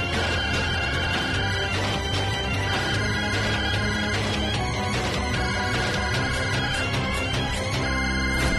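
A phone ringtone sounds from inside a fridge, a continuous looping electronic melody playing steadily and fairly loud, with no voices over it.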